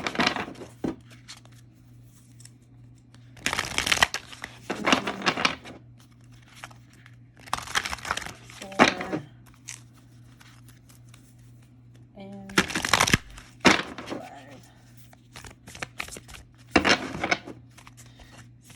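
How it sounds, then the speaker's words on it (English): Tarot cards shuffled by hand in several separate bursts of riffling and flapping, close and crisp, with a steady low hum between them and a voice speaking in the gaps. "Spirit says shuffle 5 times."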